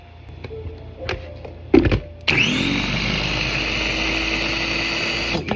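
After a few clunks and knocks, a Salad Master food processor chopping onion for a Hawaiian pastele stew starts up with a sudden loud whirring hum, holding steady and near until the end.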